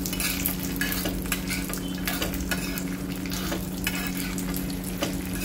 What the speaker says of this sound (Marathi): हे भाजलेले शेंगदाणे आपल्याला यामध्ये घालून घ्यायचे आहेत आणि परत मंद गॅसवरती याला आपल्याला थोडे भाजून घ्यायचे आहेत